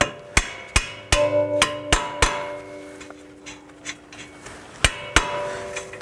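Sharp metallic hammer taps drive a stuck strut bolt out of a 2012 Subaru Forester, about ten close, ringing strikes in an uneven rhythm with short pauses between, no voices.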